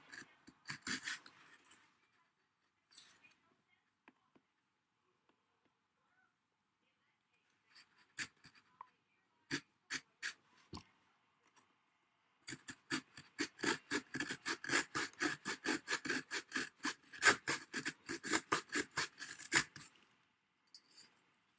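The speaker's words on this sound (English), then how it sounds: "I might just patiently, slowly saw around" Slow hand sawing around an object, a steady run of short rasping back-and-forth strokes that comes close and clear in the second half after scattered scrapes and long quiet gaps, with no talk.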